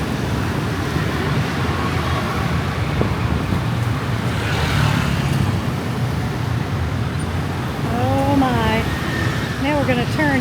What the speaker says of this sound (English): Looks like everybody in front of us is merging right into these motorcycles and other traffic.